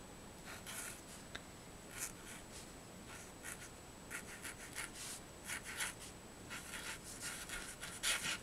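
Wet chalk writing a name on a chalkboard, a steady series of soft scratchy strokes and rubs, close and fairly quiet, with no voices.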